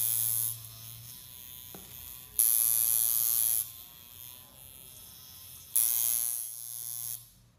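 An electric tattoo machine being tuned for lining runs in bursts, a steady high buzzing that switches on and off three times, loud and close, with quieter stretches of low hum between.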